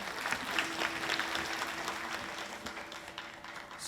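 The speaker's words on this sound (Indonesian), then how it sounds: "Tepuk tangan." Audience applause at the closing ceremony of the Bali Language Month, a dense, steady patter of clapping holding at moderate level throughout with a faint tone underneath.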